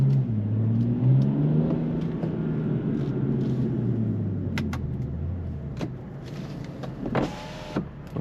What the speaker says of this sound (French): on a toujours ce mythique son du 6 cylindres